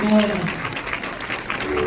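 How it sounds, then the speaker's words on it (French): A church congregation honouring retired pastors applauds with dense, continuous clapping under a talking voice and faint tonal sound. "nous sommes capables d'applaudir pour Dieu pour nous"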